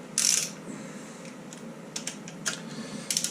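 A wrench nips up the cylinder head nuts on a Triumph Stag engine, giving short metallic clicks and ratchet ticks, one brighter burst at the start and then sparse, faint taps at close range.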